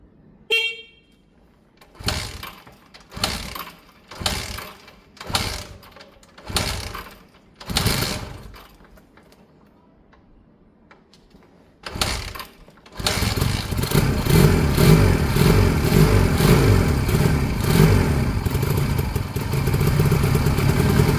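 A project vehicle's engine cranks in a series of separate, evenly spaced bursts with pauses between them, then catches and settles into a loud, steady running rumble for the final stretch.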